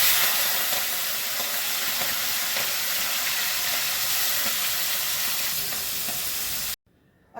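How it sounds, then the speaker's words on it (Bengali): Prawns frying in mustard oil in a pan, a loud, steady hiss and sizzle held close and unbroken before it cuts off abruptly near the end, with no talking. "প্রথমেই আমি চিংড়ি মাছটা ভেজে নেব।"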